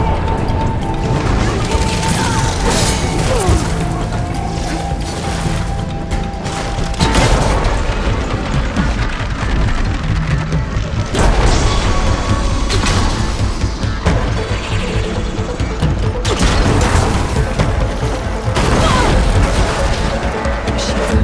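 Machines attack with explosions in the video game Horizon Forbidden West, with loud crashing blasts, thuds and mechanical clatter running continuously, and speech and game effects layered throughout.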